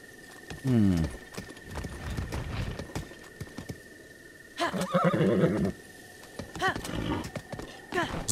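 Horse neighs and whinnies with clip-clopping hooves in the Zelda: Breath of the Wild video game, a clear descending whinny near the start and further snorts and hoof sounds later, mixed with game music and someone talking.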